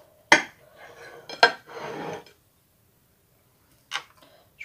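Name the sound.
cutting a red-fruit charlotte cake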